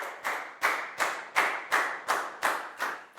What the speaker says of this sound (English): a big round of applause for Pak Bung